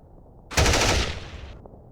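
Rapid automatic gunfire in a stop-motion battle between Blood Angels and World Eaters, one loud sustained burst of roughly a second of fast repeated shots that cuts off abruptly, no talking.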